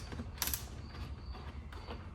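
Close, faint creaking and ratcheting clicks come from a screwdriver loosening T20 screws on a car's center radio unit, in a few short twisting bursts with no talk.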